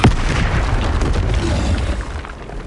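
A Bombarda spell blasts in a wizarding video game, a loud explosive boom with a sharp onset and a long, rumbling low tail that fades over a couple of seconds.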